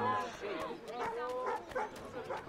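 In the video game Assassin's Creed 3, a dog gives several short yipping barks in quick succession, mixed with talk at a moderate level.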